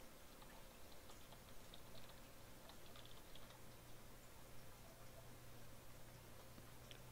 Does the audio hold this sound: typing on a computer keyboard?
yes